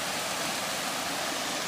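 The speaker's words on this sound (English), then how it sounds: "coming up on a beautiful waterfall here" A waterfall pouring out of rocks along a forest trail, a steady, full broadband rush of falling water heard fairly close, with no talking.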